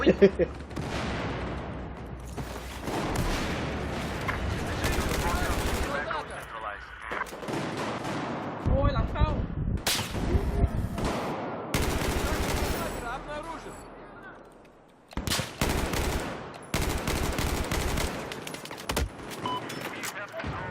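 Gunfire in Battlefield 4 played with an M16A4 on the Operation Locker map: repeated bursts of rifle and automatic fire with heavy booms, loud and close. Excited talk runs between the bursts and a brief silence falls midway.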